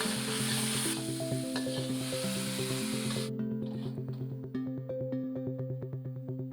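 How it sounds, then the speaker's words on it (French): Vegetables stir-fried vigorously in oil in a pan, a bright steady sizzle with rapid scraping and tossing strokes, close and continuous, the hiss dropping away partway while the stirring clatter carries on. "Pensez à brasser énergiquement en veillant à garder le craquant des légumes"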